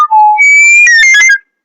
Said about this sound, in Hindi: ये आपका व्हिसिल